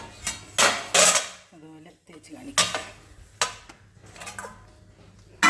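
Plates being scrubbed and washed by hand, with intermittent clinks and clatters of dishes, a few sharper knocks and soft rubbing in between, close by, with someone speaking between the sounds.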